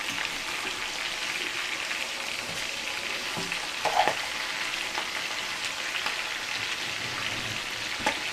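Pig's feet fry in hot oil, a steady close sizzle with scattered small pops and one sharper crackle partway through, continuous and fairly quiet with no talk.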